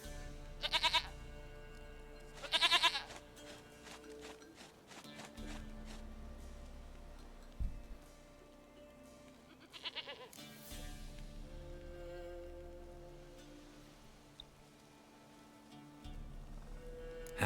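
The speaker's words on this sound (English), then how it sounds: "Goat of mine, dearest, sweetest goat." A goat bleats in The Witcher 3: Wild Hunt, two sharp bleats early on and another later, set over a low game ambience with scattered thumps.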